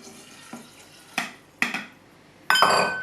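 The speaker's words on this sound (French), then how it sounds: "Donc pour finir, j'ajoute maintenant mon eau." Water poured into a Thermomix bowl while cooking rice croquettes, heard as a few short splashing bursts with a longer pour at the end, close and fairly quiet.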